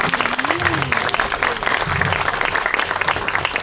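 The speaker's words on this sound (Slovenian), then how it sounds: "Pozdravimo ga z bučnim aplavzom." Loud, dense applause fills a theatre-style hall for a guest at a literary event, steady and sustained throughout, with a faint voice and low murmurs briefly audible underneath.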